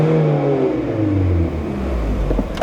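A troublesome Volkswagen Golf engine runs and revs loudly up close, its pitch sweeping and dipping under steady load, ending in a sharp pop.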